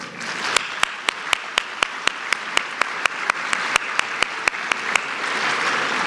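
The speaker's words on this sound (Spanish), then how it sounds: "a quienes saludamos con un caluroso aplauso" Sparse, regular claps ring out one after another over a steady wash of background applause at a conference, continuing evenly without any voices.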